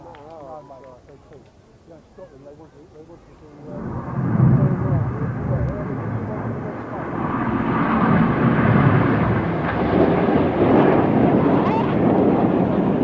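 Red Arrows jets performing an airshow display at Eastbourne rise from a quiet start into a loud, broad roar around four seconds in that keeps building, with a commentator talking throughout.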